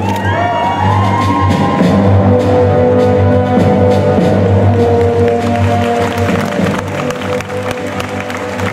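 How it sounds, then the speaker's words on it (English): Convention audience at a Japan Expo cosplay show applauding loudly, with dense sustained clapping, cheers and whoops filling the hall over a steady musical backing. "On applaudit très fort"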